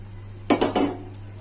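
Pabda fish dropped into a pan of simmering mustard curry, giving a few quick clattering metal and splashing knocks close by over a steady background hum.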